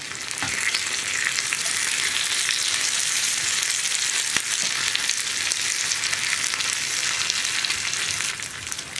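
Dried red chillies and curry leaves fry with onions in hot oil for a cucumber and tomato moru curry, a loud, continuous sizzle with an occasional faint stirring clink and no talking.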